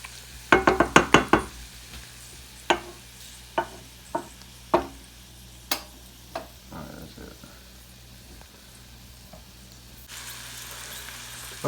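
Bacon frying with onions and jalapenos in a pan for stovetop baked beans: a soft steady sizzle runs throughout, broken by a quick cluster of sharp knocks near the start and then single scattered clacks of a utensil against the pan.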